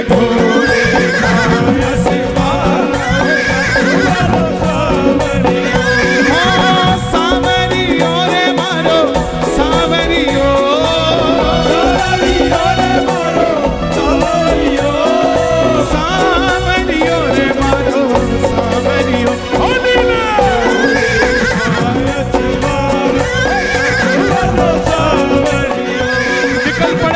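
The blue horse of Khatu Shyam is evoked by repeated loud horse whinnies and neighs, some with a hoof clip-clop, layered over dense, continuous devotional music.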